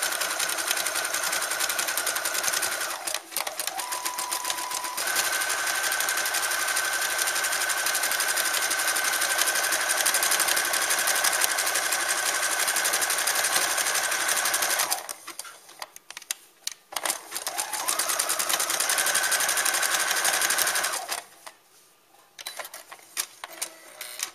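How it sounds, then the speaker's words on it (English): A sewing machine runs a small zigzag stitch around the edge of a fabric lamb toy, a loud steady mechanical whir with a high hum, broken by short pauses before stopping near the end. "Take a zigzag stitch, a small one, and just go around the edge."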